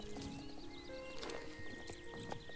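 Rhythmic clip-clop of horse hooves as a horse is ridden in the online game Star Stable Online, steady close footfalls with game tones and a whinny.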